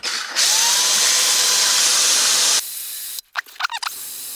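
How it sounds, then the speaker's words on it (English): A loud, steady high-pitched whirr of a power drill on high speed spinning a sanding block for a couple of seconds, then it cuts off, followed by brief clattering handling noises. "I put this in the drill, put it on high speed and see if that works"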